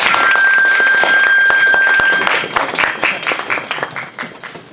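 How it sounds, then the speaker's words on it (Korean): A crowd at a panel talk claps loudly for a couple of seconds, then the applause thins into scattered claps as it dies down. "박수 부탁드리겠습니다"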